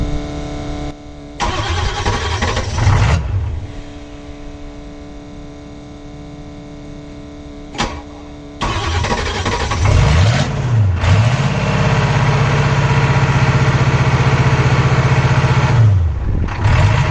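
A 6.9L diesel Ford F250 truck cranks over and catches, then settles into a loud, steady rumbling idle with a low drone, recorded close with no voices.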